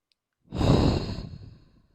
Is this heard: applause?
no